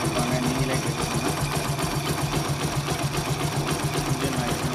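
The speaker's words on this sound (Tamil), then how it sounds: "இன்ஜினோட சவுண்ட் எப்படி இருக்குன்னு நீங்களே பார்த்துக்கோங்க." A Bajaj CT 100 motorcycle engine idles close by with a fast, even mechanical chatter and steady low thrum, continuous throughout with no voices.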